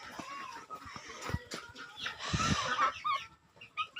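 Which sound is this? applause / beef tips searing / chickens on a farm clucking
chickens on a farm clucking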